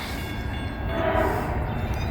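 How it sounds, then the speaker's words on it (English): A freight train rolls up the line in rural Wyoming, a steady low rumble that builds slightly toward the middle, with a faint horn-like tone, heard from nearby outdoors without talk. "Got a train coming up the line here."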